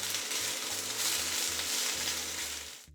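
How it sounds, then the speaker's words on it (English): Stir-fry sizzling hard in a pan with soy sauce and oyster sauce, a loud steady hiss of frying with low rhythmic clanks underneath, ending abruptly. "So it can just get a really quick sizzle, and then in goes some soy sauce and oyster sauce."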